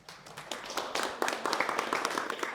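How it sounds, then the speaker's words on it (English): A small crowd claps for Callum Edwards, the absent scriptwriter, at a film behind-the-scenes gathering; dense, steady applause builds quickly and holds at close range. "Let's have a round of applause for Callum."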